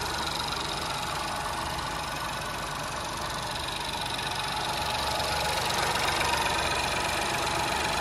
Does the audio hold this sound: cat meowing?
no